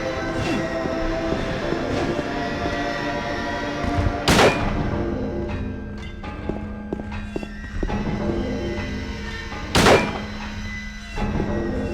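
Two sharp, loud gunshots roughly five seconds apart ring out in the Silent Hill 2 video game, standing out over a steady, droning game soundscape.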